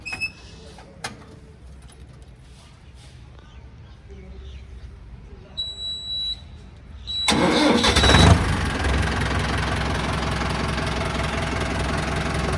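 A 2019 Arjun Novo tractor in like-new condition cranks and catches partway through, then settles into a loud, steady diesel idle; before it starts, people talk over a quiet background.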